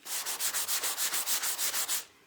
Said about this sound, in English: I'm using the rad pad, by the way, the finest one, super fine.